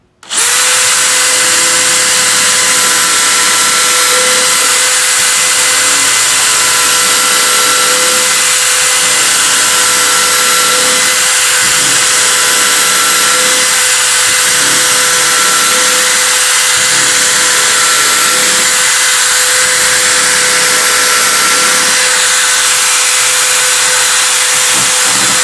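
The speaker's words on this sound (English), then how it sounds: "once I've drilled a series of holes, we'll go back and forward" Power drill boring a row of holes in wood to rough out a mortise for tenons while building a wooden tool chest, a loud continuous whining hiss close up and alone, running almost unbroken for about twenty-five seconds.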